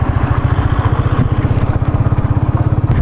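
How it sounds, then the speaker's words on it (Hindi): A motorcycle engine runs loud and close with a steady rapid pulsing throb while riding on a road near Garadia Mahadev in Rajasthan. "तो मिस्टर अप्रज्योति बैनर्जी अब बाइक चला रहे हैं।"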